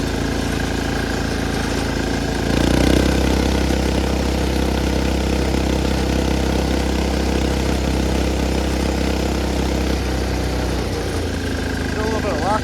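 Engine of a 1970s Sears lawn mower swapped to diesel, running off-road with a steady, loud chugging drone that swells around the third second and holds before easing near the end.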